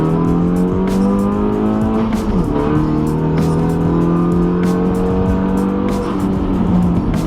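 A Hyundai Veloster Turbo accelerates hard and runs quickly through its gears, engine tone rising then dropping at each fast shift, loud and close with a repeated ticking or clicking throughout.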